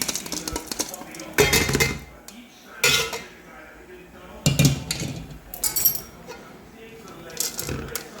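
Tempering is tipped from a metal pan onto flattened rice in the kitchen, with several loud, close clanks and scrapes of metal on metal spaced a second or two apart between quieter moments.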